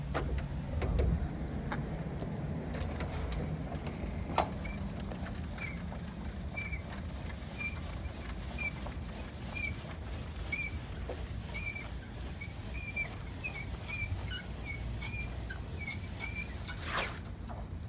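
A Sync Vans Sprinter van's awning is unrolled with a soft mechanical whir and repeated small clicks and creaks over a quiet background, with no talk.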